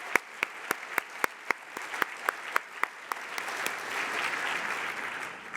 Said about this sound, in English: give a round of applause for the leadership of our Vice Chancellor for Inclusive Excellence, LaVar Charleston